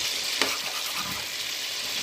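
Oil, ghee and margarine heat together in a pot with a steady close sizzle and hiss that runs unbroken throughout, with one faint tap near the start.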